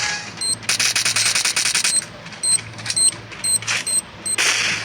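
A grenade is thrown in the Free Fire video game, with rapid mechanical clatter and bursts of sharp game effects in quick succession, loud and close, and no voices.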